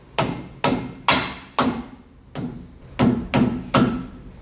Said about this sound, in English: Grab myself a rubber mallet.